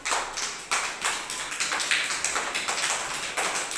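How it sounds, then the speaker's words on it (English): Children clap together in a classroom, a quick run of sharp, fairly close claps over a few seconds with no talking. "Clapping."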